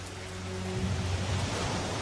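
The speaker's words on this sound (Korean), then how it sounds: "아빠, 비 와요." Rain pouring down as a sound effect in a children's story, a dense steady hiss that swells slightly and continues without pause.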